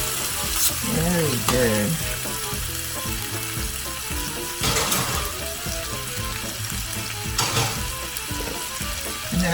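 Snapper frying in a pan just after being turned, a steady broadband sizzle with scraping and stirring bursts, a short voice comment mid-clip.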